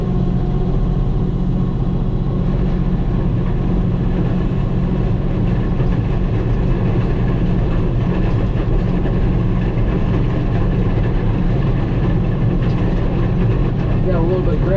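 A tractor engine runs steadily with a low, constant rumble while grading and leveling a crowned gravel driveway, close and continuous throughout, with someone talking over it.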